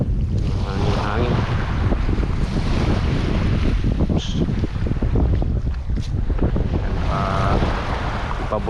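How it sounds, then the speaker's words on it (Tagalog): Strong wind gusts across a beach while fishing, roaring steadily into the microphone with surf washing underneath, loud and continuous throughout. "Hangin."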